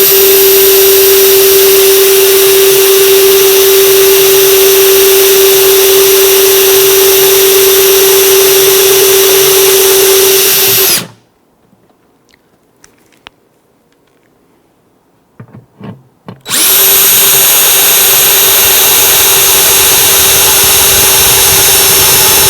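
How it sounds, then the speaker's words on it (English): A power drill with a Vix self-centering bit bores holes into an acoustic guitar bridge, giving a loud, steady motor whine that stops for about five seconds, with a few small knocks, then starts again. "Once I've got the holes drilled"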